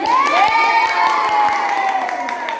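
Schoolchildren in a classroom cheer and shout together in high, overlapping voices, with a few scattered hand claps beneath the continuous loud noise.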